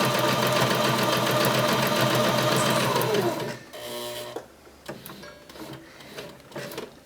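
A sewing machine stitches a fabric appliqué star, running in a fast, steady mechanical chatter for about three and a half seconds before stopping, followed by a few soft handling clicks and taps.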